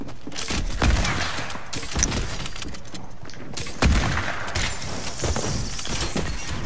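Shotgun blasts in Fortnite Battle Royale, each a sharp, heavy boom. A few shots land at irregular intervals among clattering, breaking game sounds, loud and close.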